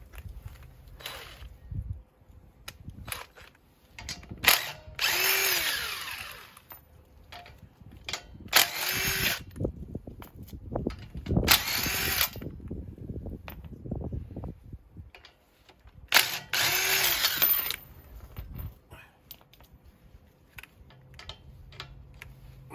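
On a Sprinter van a power tool loosens the wheel bolts in several loud, close bursts of whirring and rattling, separated by clicks and handling noises.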